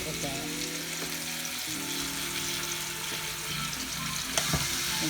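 Oxtails browning in hot oil in a pan make a continuous, close sizzle and crackle, with brief scraping as the pieces shift and a sharp clank near the end; no one speaks.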